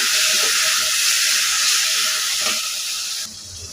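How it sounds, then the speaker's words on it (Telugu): Tomato puree and masala paste fry in a pan with a steady, loud hissing sizzle that holds for several seconds, then softens slightly near the end, with faint clinks of stirring. "ఇది కొద్దిగా పచ్చి వాసన పోయేదాకా వేపుకోవాలి"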